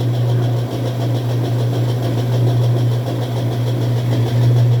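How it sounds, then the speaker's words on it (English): A Whirlpool direct-drive washing machine in its spin cycle, failing to reach full speed, gives a steady, loud motor hum with a constant rough, scraping grind throughout and no talking. "It makes like a scraping, popping sound, as you can hear."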